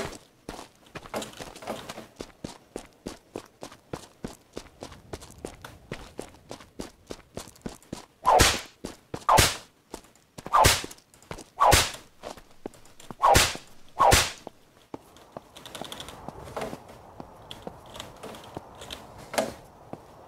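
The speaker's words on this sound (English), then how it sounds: "maybe just me whipping my whip too much" A whip cracks repeatedly in the zombie survival video game Unturned, sharp loud snaps in an irregular run over a bed of quick rhythmic footsteps, with a few softer whooshes near the end.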